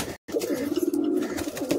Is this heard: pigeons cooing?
yes